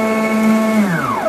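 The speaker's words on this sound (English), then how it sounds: "the sound that the steppers make when I go from one, when I start the machine up" Stepper motors on a machine starting up, a steady close electronic whine with strong harmonic tones that holds level and then slides downward as the motors ramp.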